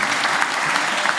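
A small live audience at a Haunted Homies podcast taping breaks into brief, loud, close applause, a dense burst of clapping with a faint hint of crowd voices.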